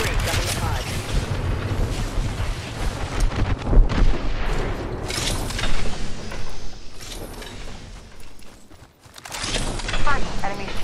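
Heavy gunfire in an Apex Legends fight, rapid bursts and booming shots nearly throughout, briefly dropping out before resuming, with in-game voice lines speaking over the combat.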